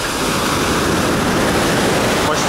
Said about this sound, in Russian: Вау, вау, вау, хорошие волны.